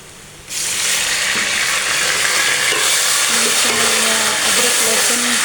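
Water poured into a hot pan of frying potatoes and cauliflower bursts into a loud, sustained hiss and sizzle, with faint low clatter beneath.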